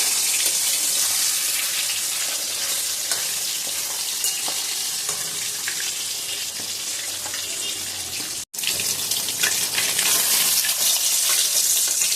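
Pieces of katla fish fry in hot oil in a pan, giving a loud, steady, hissing sizzle with some watery splashing, broken by a brief cut of silence.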